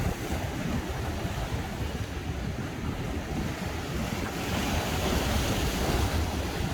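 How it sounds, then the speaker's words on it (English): Rough sea waves surge and break along the shore at Old Jaffa, a loud continuous roar of surf mixed with gusting wind buffeting the microphone. "Oh, look at the rough sea,"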